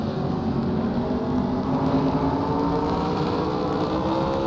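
Onboard the No. 14 modified race car at Stafford, the engine roars loud and steady with a rising whine as it runs down the back straightaway into turns 3 and 4.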